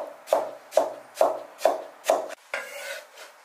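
A knife dices a cucumber into small cubes on a cutting board. Five evenly spaced, crisp chops land at a steady rhythm, followed by a softer final cut, close and clear with no talking.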